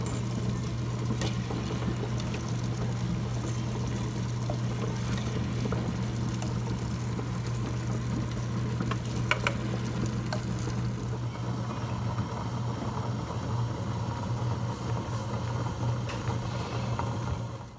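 A wet grinder runs steadily while grinding urad dal for dosa batter, a close, constant low motor hum with a gritty churning rattle over it and no talking.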